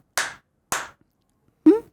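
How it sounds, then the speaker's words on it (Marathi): Three separate hand claps, close and crisp, with the first two evenly spaced and the third, after a longer pause, louder and fuller. "किंवा आता आपण टाळ्या वाजवतो"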